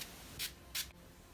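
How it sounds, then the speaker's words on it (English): Two quick, close hisses of Wet n Wild Photo Focus setting spray misted onto a makeup brush, short sharp bursts separated by near silence. "take this Wet n Wild Photo Focus Naturel setting spray. Spray the brush."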